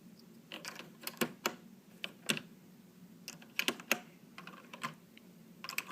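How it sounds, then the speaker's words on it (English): Keycaps being pried and pulled off a Unicomp Model M keyboard (Classic 104 USB), heard close up as irregular sharp plastic clicks and snaps scattered through quiet room tone. "Yeah, all the keycaps come off."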